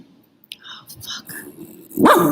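A dog gives one sharp close bark at the end, after a few faint whispery sounds and soft rustles.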